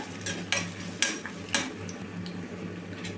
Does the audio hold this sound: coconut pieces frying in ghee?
yes